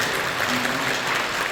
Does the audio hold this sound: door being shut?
no